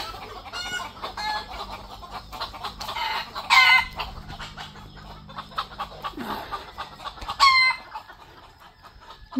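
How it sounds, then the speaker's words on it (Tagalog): Farm chickens settling to roost in trees at dusk, a flock giving soft clucks and a few louder squawks, some calls near and sharp, others fainter, with no talking over them. "Okay, good night, chicken."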